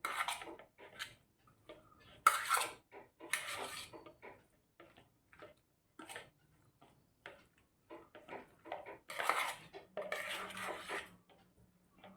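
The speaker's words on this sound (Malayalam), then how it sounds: "നമുക്ക് മയോണൈസ് ഇട്ട് ഇതൊന്ന് മിക്സ് ചെയ്യാം." Spoon clatters and scrapes against a bowl as boiled vegetables and crushed cooked chicken are mixed with mayonnaise for a chicken bread sandwich, in irregular bursts of close clinking with quiet gaps between.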